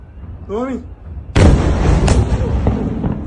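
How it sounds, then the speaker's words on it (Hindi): An explosion in Israel during the Iran conflict lands as a sudden loud blast that rolls and rumbles on, with a second sharp crack shortly after, preceded by a brief shout. "और इस धमाकों की आवाज़ से दहला है इजराइल।"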